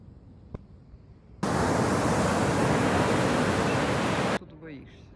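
Atlantic Ocean surf roars as a dense, steady wash of crashing waves, loud and close, that cuts in abruptly and holds for about three seconds before dropping back to quieter background with faint sounds.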